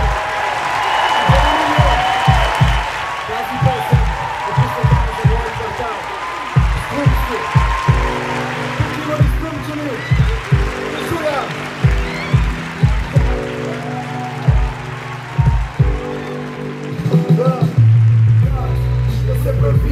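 Cheering and applause at a Christmas concert in Blagoevgrad greet a young performer, with crowd noise early on giving way to a rhythmic stomping beat and musical tones under talk from the stage.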